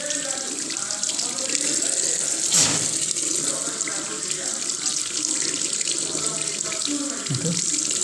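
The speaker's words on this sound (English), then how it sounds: "now I will wash the filter. Like this, you can wash it." Running water from a tap pours steadily over a removed Whirlpool washing machine inlet filter as it is rinsed clean, a continuous close hiss and splash with brief handling knocks, no talking.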